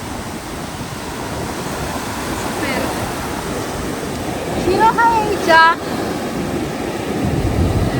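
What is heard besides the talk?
sea waves breaking at the beach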